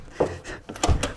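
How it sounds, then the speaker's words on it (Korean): An indoor door is pushed shut, with a soft scrape followed by a dull thud as it closes nearby. "문을 닫을까?"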